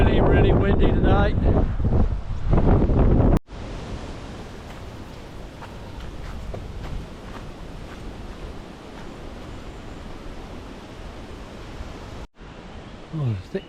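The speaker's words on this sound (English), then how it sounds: "Really windy today." Strong coastal wind near a lighthouse buffets and roars across the microphone for several seconds, a loud broad rush after a brief stretch of other noise at the start.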